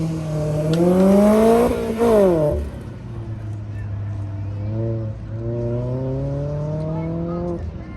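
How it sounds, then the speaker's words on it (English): A Mazda Miata race car revs hard through an autocross course, engine rising and falling as it accelerates and shifts, with a commentator talking over it. "Watch Joel make this a Miata dance."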